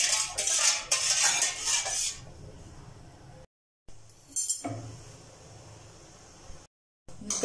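A spoon scrapes and clinks against a metal pot while stirring heating sugar syrup, in bursts separated by brief silences, close and fairly loud.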